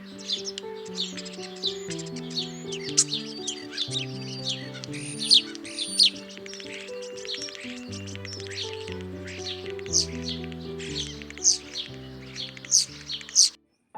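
Springtime birdsong with several birds chirping and trilling in quick overlapping phrases, bright repeated calls over a steady background of sustained tones, continuous throughout.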